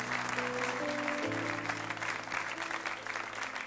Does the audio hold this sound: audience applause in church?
yes